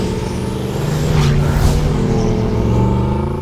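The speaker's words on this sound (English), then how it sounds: "exhaust notes engineered by the masters of valve-controlled sound" A car fitted with a Guerrilla valve-controlled exhaust revs, its deep engine note holding steady and swelling to a louder peak midway before settling, close and alone.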